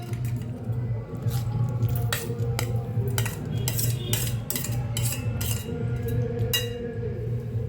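A spoon mixes sabudana, grated potato, crushed green chilli and coriander in a bowl for a Marathi fasting snack, with close, brisk metallic clinks and scrapes against the bowl over a soft, squishy stirring texture.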